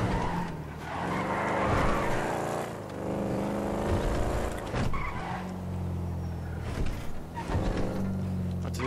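Adder supercar in GTA V drifting and skidding, engine roaring steadily with tire squeal swelling and fading across the stretch, loud and continuous with no talking.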